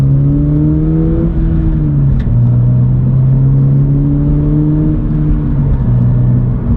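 A 2022 Subaru BRZ with an HKS Spec-L exhaust revs loudly and steadily up close, its deep exhaust drone rising and dipping in pitch as the throttle is worked.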